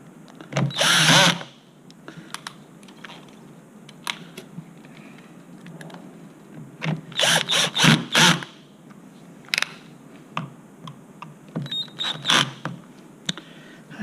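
A power drill set to a lower torque drives screws that fasten a motor gearbox back onto a chassis. It sounds in short, loud, whirring bursts at the start and in a cluster later, with clicks and clatter of handling between them.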